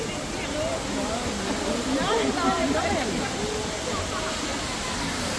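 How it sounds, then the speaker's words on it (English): A tall indoor waterfall at Singapore's Crystal Mountain makes a steady, broad rushing roar, with a person talking over it throughout. "that is the waterfall, and I'll show you in more detailed view"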